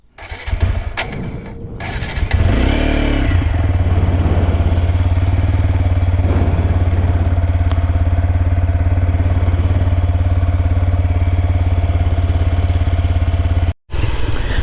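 A 2025 TVS Apache RTR 160 4V motorcycle engine starts up and settles into a steady, close idle with an even low throb, cutting off briefly near the end.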